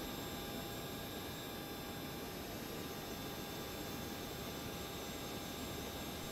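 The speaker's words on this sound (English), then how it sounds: "it doesn't really matter, I don't think, what engine you start first, because they're electrically started engines" Jet engines of a Citation Sovereign+ business jet spin up in Microsoft Flight Simulator, a steady hissing broadband roar with high whining tones, constant and fairly quiet, no talk.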